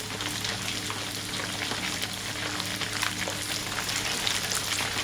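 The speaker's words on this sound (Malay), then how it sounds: "Kita goreng dengan gas cukup ni tidak terlalu lebih dan tidak terlalu kurang," Shrimp for sambal frying in oil over a gas stove, a steady close sizzle with dense crackling spatter and a low hum throughout, no talking.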